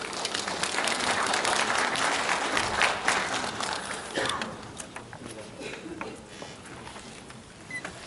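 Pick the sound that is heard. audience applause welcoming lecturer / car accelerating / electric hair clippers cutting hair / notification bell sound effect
audience applause welcoming lecturer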